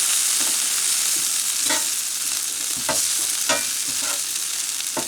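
Potatoes frying in butter in a pan on a camp stove, a loud continuous sizzle close by with occasional scraping stirs breaking through.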